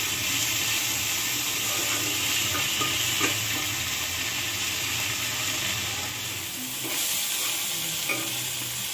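Malabar spinach seed pods fry until crisp and browned in a pan, giving a steady dense sizzle with occasional scraping stirs, close and continuous throughout.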